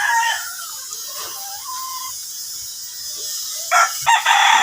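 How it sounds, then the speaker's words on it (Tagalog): Fighting cocks crow and cluck at a yard crowded with cages; a drawn-out crow opens, scattered clucks follow, and more crowing breaks in loudly near the end, with no talk. "Halo-halo ang kanilang mga manok dito."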